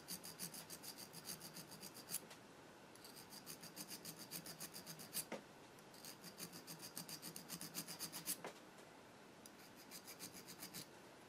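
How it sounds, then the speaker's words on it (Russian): A diamond needle file rasps metal flat on a sewing machine bobbin winder part, in close, rhythmic bursts of quick back-and-forth strokes separated by short pauses. "Берем алмазный надфиль. И вот так вот берем и стачиваем по плоскости."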